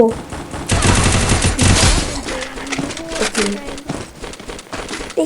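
Rapid automatic gunfire bursts in the Free Fire mobile battle game, loud and dense at first and then tapering into scattered shots, with excited voices talking over the action.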